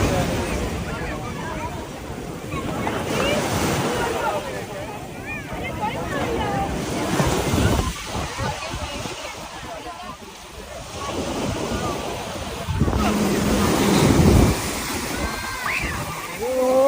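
Sea waves wash in at Girgaon Chowpatty beach in Mumbai, a broad surf roar rising and falling with gusts of wind buffeting the microphone while people talk over it.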